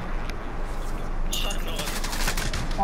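Rapid automatic gunfire from hip firing in the video game Warzone, dense bursts of shots over steady game noise, with a voice talking faintly underneath.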